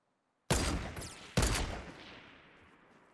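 Two loud, sharp sniper rifle shots in the Fortnite video game crack about a second apart, each followed by a long, rolling echo that fades slowly into quiet.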